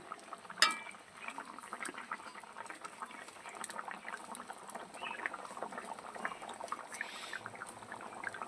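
A pot of jackfruit seed curry with potatoes and fried dhoka bubbling on the stove, a steady soft burble of simmering that continues throughout, with a single louder clink near the start.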